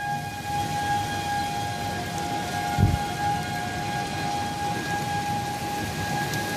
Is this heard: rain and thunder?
yes